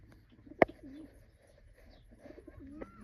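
Pigeons in a coop with fresh eggs and newly hatched chicks give soft, low cooing and faint chirps, with one sharp knock partway through, all quiet and close.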